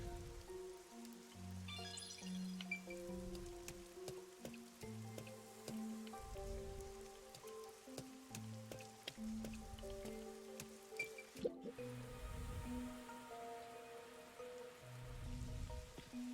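Soft rain patters on surfaces in a rain-soaked video game city, a faint, quiet hiss running beneath gentle tonal background music.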